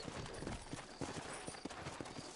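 Horse hooves clip-clop in steady, close rhythm in the Western video game Red Dead Redemption, on a town street in New Ulster, with a low bed of ambient game noise and no talk.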